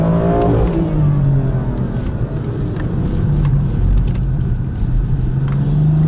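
A Porsche GT4 race car at the Pau street circuit accelerates hard out of a tight hairpin, its loud engine note climbing steadily through the revs and then holding a strong, continuous roar close by.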